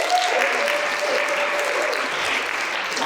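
Audience clapping at a high school story slam, a steady dense wash of applause that holds for the whole stretch with no voices over it.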